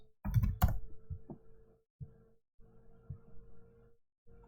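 Short chat message typed on a computer keyboard, a close burst of rapid key clicks followed by sparser taps and pauses over a faint steady hum.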